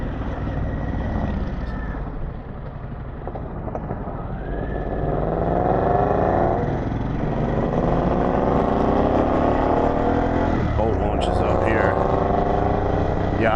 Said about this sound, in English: Yeah, I don't know what kind of bike that is, but it sounds great.